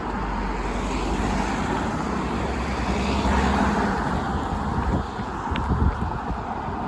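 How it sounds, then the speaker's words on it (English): Continuous roar of road traffic passing close by on a street in Cronton, England, with engine and tyre noise swelling and fading under gusty wind buffeting. "So if I can get a break in the traffic."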